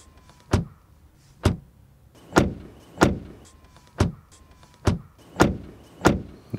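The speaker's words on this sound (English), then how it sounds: "First of all, door closing sound." A 2021 Volkswagen Golf 8 R car door slams shut eight times at a steady rhythm, each a sharp solid thud with a brief pause between, close by and with no talking.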